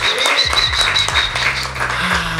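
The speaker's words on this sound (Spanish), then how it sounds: "Un aplauso para los Panchos." Audience applause during a Colombian Spanish-language talk show, a short burst of close clapping mixed with voices.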